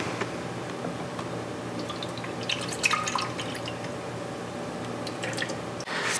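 Motul 600 brake fluid pouring into a car's brake reservoir during a Volkswagen Alltrack service, a soft steady trickle with faint drips and small liquid squishes, close and quiet with no talking.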